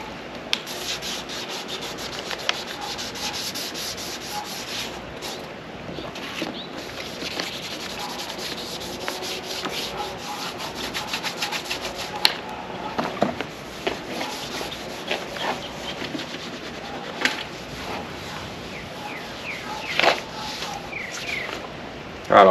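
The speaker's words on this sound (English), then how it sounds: "after wet sanding it, taking a polishing pad" Wet sanding on the bodywork of a Goldwing cafe racer motorcycle gives a continuous, close rubbing and scrubbing, with rhythmic back-and-forth strokes, small scrapes and clicks throughout.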